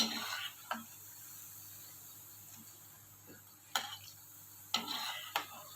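Dahi vada fritters deep-fry in hot oil over a medium flame. A soft, steady sizzle carries under scattered clinks and stirring scrapes of a utensil against the pan.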